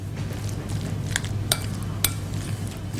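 Utensil clinking against a bowl while cheesy roll filling is mixed, a few sparse light clinks over a steady low background hum, no talking.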